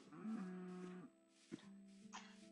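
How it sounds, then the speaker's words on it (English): A cow moos in a video game, two drawn-out lowing calls with a short gap between them, fairly quiet and heard alone. "I think that was a cow."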